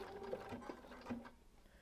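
A sewing machine stitches appliqué pieces for a double turbine quilt block, running in short steady bursts at close range with a light mechanical whir and no voices.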